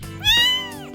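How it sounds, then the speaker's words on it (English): A cat gives a single clear meow, rising then falling, close and fairly loud, with a faint trailing sound at the end. "A cat is a small, soft animal with a long tail and sharp eyes."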